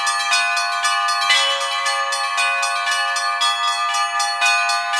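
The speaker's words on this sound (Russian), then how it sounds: "В этот праздничный день собрались звонари, чтобы порадовать прихожан колокольным звоном." Bell ringers sound church bells on the patronal feast day of the Myrrh-bearing Women at the Church of the Nativity, a loud, close peal of bright, overlapping strikes in a lively continuous rhythm.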